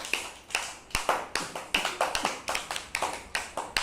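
A class of schoolchildren claps for a classmate, a steady run of sharp, fairly close hand claps repeating roughly every third to half second, loud and alone with no talking over it.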